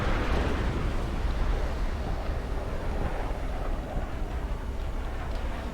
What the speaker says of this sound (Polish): Ładnie te eksplozje wyglądają.